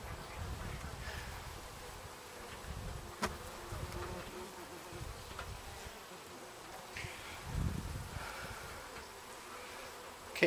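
Honey bees hum during a fall hive inspection on a homestead, a soft steady drone of many insects nearby with occasional louder passes close by and faint handling knocks.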